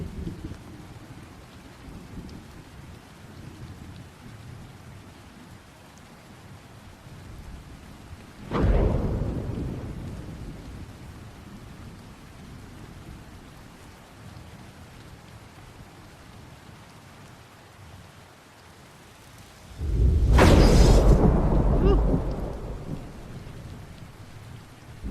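Steady rain in the fantasy MMO game Ruins of Tearyn, with two loud thunder cracks rolling out, one near the middle and a bigger one later, over a constant wash of rainfall.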